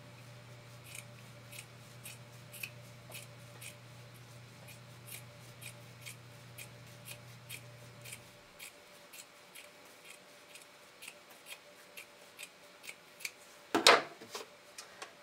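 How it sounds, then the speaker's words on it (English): Scissors trim excess fabric beyond a zigzag stitching line while sewing band elastic onto a bra, giving a long, even series of close, quiet snips that ends in one louder cut. "flip it over and trim back any of the excess fabric that extends beyond your zigzag"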